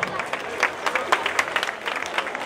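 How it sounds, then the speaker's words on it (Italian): Audience clapping at an outdoor concert opening, steady moderately loud applause with sharp individual claps standing out, lasting a couple of seconds with some crowd noise underneath. "per favore, un grande applauso."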